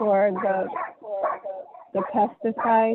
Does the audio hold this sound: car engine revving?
no